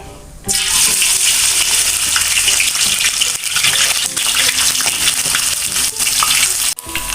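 Small anchovies (teri) fry in hot oil for Padang-style balado, a loud, dense, continuous sizzle with crackles and a brief dip near the end.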